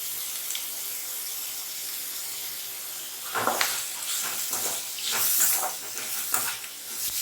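Sliced onions with salt and chili sautéing in a pan, a continuous soft sizzle and hiss with small crackling bursts, close and steady with no talking.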